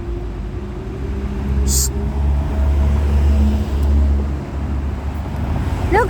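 A vehicle rumbles past nearby with a low steady engine drone that swells and fades, while a person briefly hushes and speaks over it.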